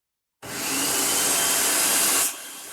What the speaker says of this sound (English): we're going to pulse until it is a rich, creamy concoction